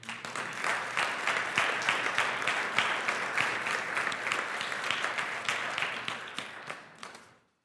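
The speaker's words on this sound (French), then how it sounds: "Vous pouvez applaudir le Seigneur." A church congregation gives a round of applause for the Lord at a New Year's Eve service, a full, even clatter of many hands at moderate distance that tapers and stops abruptly near the end.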